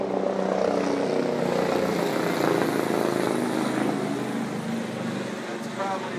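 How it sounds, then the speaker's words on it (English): A news helicopter passes overhead near a Mississippi River pirate-ship cruise, its steady engine and rotor drone loud and continuous throughout, with faint voices mixed into the broad noise. "That's probably the news chopper right there."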